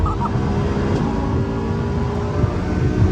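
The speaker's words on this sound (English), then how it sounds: "Oh, the turbo noises and everything, it's crazy in person." Twin-turbo Lamborghini Performante running at speed on the German Autobahn, a steady loud engine and turbo roar with broadband wind and road rush throughout, no pauses or talk.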